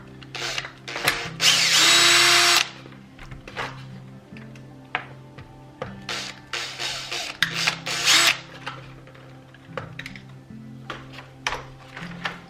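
A power driver backs screws out of the bottom of a Traxxas X-Maxx RC truck chassis. It gives several whirring bursts of varying length, one long and loud near the start, mixed with close clicks and handling noise. No one speaks.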